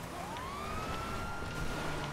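A police siren wails in the GTA Online game. One rising tone climbs and holds over a steady background of car engine rumble, moderately loud, with no one speaking.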